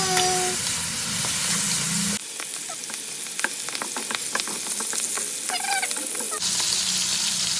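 Onion and tomato frying in a pan, a loud continuous close sizzle with spatula scraping and clacks against the pan throughout, no one talking.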